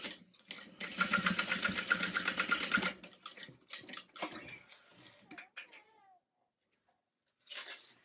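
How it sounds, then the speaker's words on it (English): A sewing machine top stitches through a bag's lining and seam with a quick, even needle chatter for about two seconds, followed by scattered handling clicks and a short burst at the end. "I'm only top stitching through the lining and the seam."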